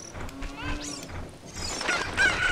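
Cucco chickens in a Legend of Zelda video game at Kakariko Village, clucking and squawking game effects mixed with chiming tones and a rising whistle, moderately loud and fairly busy.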